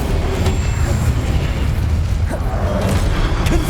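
A fire spell cast in Hogwarts Legacy gives a dense, steady roaring burst with crackling booms and pops, sustained and loud throughout with no talk.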